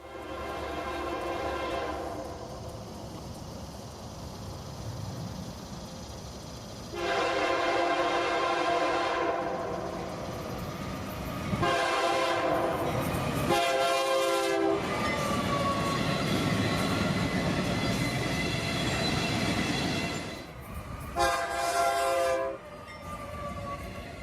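A freight train led by an orange locomotive climbs toward a crossing near Baldwin, Georgia, its horn blaring in long and short blasts over the steady rumble of the rolling cars, loud and close with no voices.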